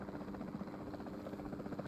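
A helicopter in the video game Jurassic World Evolution drones with a steady, low rotor thrum and buzz. It runs continuous and fairly quiet, without talk over it.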